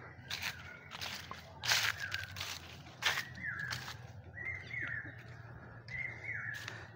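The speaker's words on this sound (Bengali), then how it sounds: "পাখির ডাকগুলো নিশ্চয়ই শুনতে পাচ্ছেন" Birds call in a mango garden, short bright chirps and repeated whistled notes coming in clusters at a moderate distance, over a quiet rustling background.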